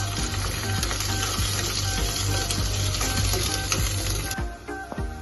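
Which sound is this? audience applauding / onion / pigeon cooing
onion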